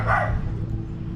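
Neighbors' dogs barking nearby, a burst of yapping at the start that settles into a steady, fairly loud backdrop of low rumbling noise, with no talk over it.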